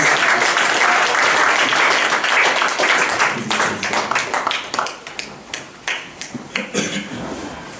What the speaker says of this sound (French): On peut applaudir le Seigneur, merci pour sa grâce.